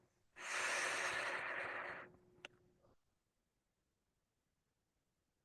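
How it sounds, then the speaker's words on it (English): A single big breath out, a long, breathy exhale through the nose or mouth lasting under two seconds, close and quiet, in a calm meditation setting. "Two more big breaths out."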